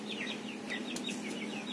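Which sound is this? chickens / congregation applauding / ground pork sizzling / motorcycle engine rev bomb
chickens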